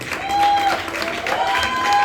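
A church congregation claps for the worship team during a Sunday service, a moderate spread of applause with some crowd noise while a voice speaks over it.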